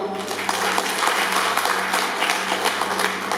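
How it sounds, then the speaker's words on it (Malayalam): An audience gives the organizing committee a warm round of applause: dense, steady hand clapping from many people, fairly close and sustained. "ഒരു നല്ല കൈയടി നമ്മുടെ സംഘാടക സമിതിക്ക് കൊടുക്കാം"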